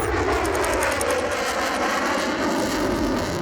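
A Marine Corps F-35B stealth fighter jet passes at high subsonic speed near show center, a loud continuous broadband roar filling the whole stretch without letup.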